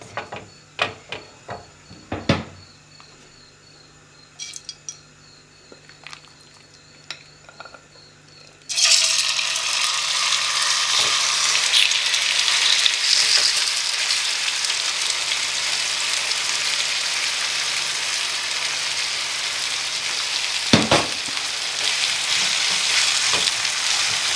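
Food fries in a pan on medium heat: after a few quiet knocks and clatters, a sudden loud, steady sizzle begins and continues, with an occasional sharp clink of utensils.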